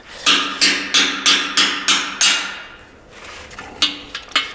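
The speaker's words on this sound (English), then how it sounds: "you can hear that difference in tone when I'm hitting them" A hammer strikes steel punches to drive split valve guides out of an old 79-year-old Jeep engine, six sharp metallic ringing blows in steady rhythm, then a pause and a few lighter, duller taps, close and loud.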